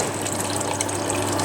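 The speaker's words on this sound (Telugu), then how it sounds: "స్క్వీజ్ చేసుకొని వాటర్ తీసుకొని 2 times వాటర్ పోస్తున్నాను" Water pours in a continuous gushing stream into a pot of tamarind rasam spiced with black pepper, close and steady for a brief moment.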